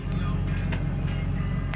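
Diesel truck engine fitted with a Wicked Wheel aftermarket turbo compressor wheel, running steadily with a dense low rumble and faint brief whistles above, continuous and fairly close.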